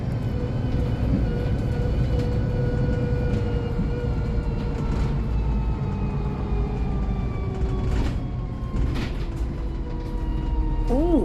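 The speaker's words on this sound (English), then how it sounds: "It's a VDL SB180 MCV Evolution." Interior ride on a VDL SB180 MCV Evolution single-deck bus, fleet number 669, formerly with Centrebus and in Chase Rider colours, with a steady loud engine drone, a rising gear whine and a few rattles and knocks throughout.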